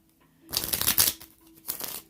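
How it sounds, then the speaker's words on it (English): Tarot cards are shuffled up close in two quick, crisp bursts, the first longer than the second, with near silence between them. "Alright, let's shuffle."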